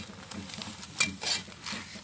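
Bhola fish wrapped in banana leaves is flipped in a pan: soft scraping and a couple of light utensil clinks against the metal over a low, steady sizzle.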